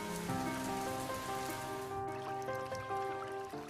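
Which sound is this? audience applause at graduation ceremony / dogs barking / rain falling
rain falling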